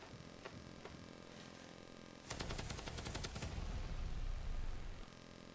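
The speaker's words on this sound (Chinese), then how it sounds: "你去拿一把枪，到那边的高塔上，朝天开枪" Gunfire shot skyward from a high tower cracks out as a quick, loud burst of sharp reports in the middle of a quiet, windy background, then fades into rumbling noise.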